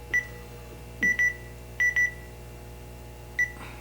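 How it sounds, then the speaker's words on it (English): Short electronic control beeps from a Panasonic EP-MA10 massage chair sound in small groups, single and doubled chirps spaced apart over a low steady mechanical hum. "Then see how the beep sound?"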